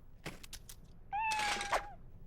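A single drawn-out kitten meow, close and clear, rising then holding steady, after a few soft clicks and taps.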